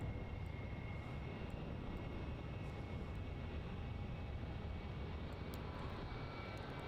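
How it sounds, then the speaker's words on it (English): A departing airliner lifts off runway 34 at Melbourne Airport, its engines producing a steady, broad roar that stays constant and fairly distant throughout, with no voices over it. "gracefully lifting out off runway 34 up to the Goldie"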